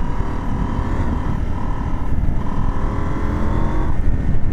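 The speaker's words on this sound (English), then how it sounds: "the bike doesn't sound very nice. It sounds weird." KTM 790 Adventure motorcycle with an odd-sounding engine, a loud continuous drone with a steady tonal hum and rushing wind noise as it rides along, no talk.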